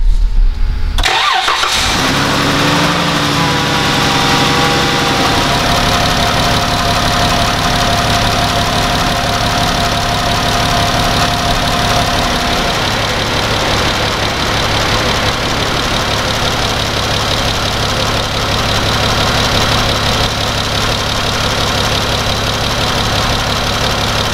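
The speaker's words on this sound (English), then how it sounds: "then we'll start the engine" A Dodge Grand Caravan's 3.6 V6 engine cranks briefly and catches, then settles into a steady, close idle that hums on evenly for a long stretch.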